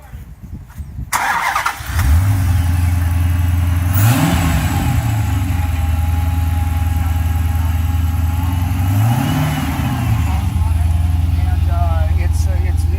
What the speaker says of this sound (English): So it's got a very low restricted exhaust, but it still sounds like a really true muscle car